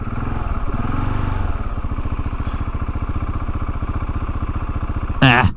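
A KTM 690 Enduro R motorcycle heads downhill on a dirt road, its single-cylinder engine putting out a steady, close, loud thumping rumble. A brief sharp noise bursts out near the end.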